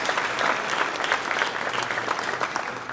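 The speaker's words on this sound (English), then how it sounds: "Can we give a round of applause to our parent panel?" Audience at a high school rising senior parent night, Bellarmine Preparatory School, gives a round of applause for the parent panel: steady, dense clapping from a full room, fairly loud and unbroken throughout.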